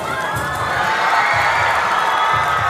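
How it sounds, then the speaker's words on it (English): Crowd cheering and whooping at an FRC 2018 South Pacific robotics competition finals match, a sustained loud roar of many voices with bursts of louder shouts throughout. "That cheer was from Pinball Ladies College, the pride of Pinball, just taking control of the scale"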